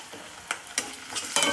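Onion and tomato with spices frying in a pan, a soft steady sizzle broken by a few scraping stirs, the last one louder and closer.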